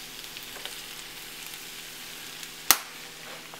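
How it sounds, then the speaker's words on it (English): Chicken fried rice sizzles in a hot pan with soy sauce, a steady close crackling hiss with faint scraping, punctuated by one sharp clack of a utensil. "So now I'm gonna add soy sauce for more flavor to the food."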